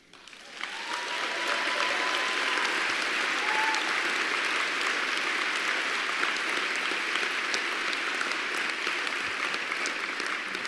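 Sustained applause from a banquet audience, rising quickly from quiet into a dense, even roar of many hands clapping that holds steady and loud for the whole stretch.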